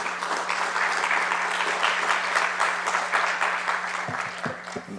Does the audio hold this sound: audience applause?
yes